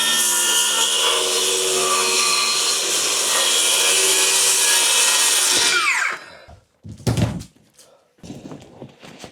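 A power saw cuts wood in one long, loud, steady run as it is guided along a marked line on a homemade cutting ramp during a cabin upgrade, then it winds down and stops, followed by a few short knocks.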